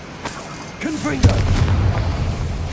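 A Confringo blasting spell cast in Hogwarts Legacy lands as a deep boom with a rumbling tail, following a brief shouted voice and lingering over background game ambience.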